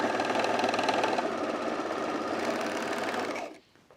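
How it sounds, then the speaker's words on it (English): Sewing machine stitching pocket openings on pajama pants in slippery fabric, a steady loud whirring run of rapid needle strokes that stops abruptly near the end. "So I'm just sewing all my pocket openings."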